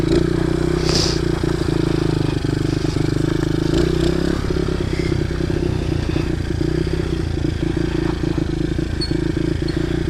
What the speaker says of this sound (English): I don't know why it revs up by itself so much, but it does. like takes a while to idle down.